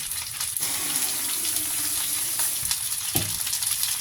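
Water is poured into a hot pan for crab stir-fry, bringing a steady broad hissing gush with sizzling and a couple of sharp clanks, close and without talk.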